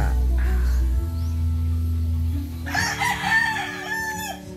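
A rooster crows loudly near the end on a chicken farm in Dolores, Quezon, Philippines, its call rising and falling after a stretch of low rumbling background noise.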